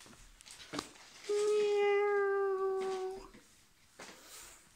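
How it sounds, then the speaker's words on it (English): A single drawn-out cat meow, clear and fairly close, rising then trailing off, with a brief rustle before and quiet room noise after. "And she's gonna welcome us with a nice meow."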